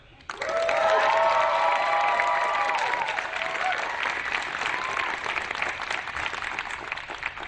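Alumni debate audience bursts into loud, sustained applause with some cheering, swelling quickly and then tapering slowly over several seconds.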